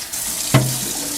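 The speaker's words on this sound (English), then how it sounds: "just run it under some water." Running tap water rinsing the base of a coffee machine: a steady hiss of water flowing from the faucet into a sink, with a sudden splash as the part is pushed into the stream.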